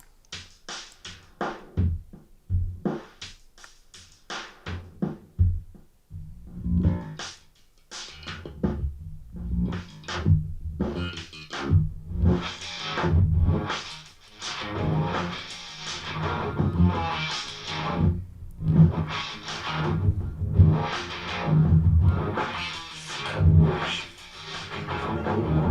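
Rock music with punchy drum hits and guitar runs through the Airwindows Biquad Plus filter plugin, starting in sparse bursts and then building into a dense, continuous mix, heard alone.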